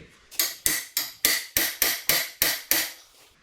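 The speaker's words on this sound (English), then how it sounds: "This is not the appropriate wrench or method to tighten this nut" Wrench tightening a nut on a John Deere B tractor, struck in a steady series of about ten sharp metallic knocks, close and loud with brief ringing after each blow.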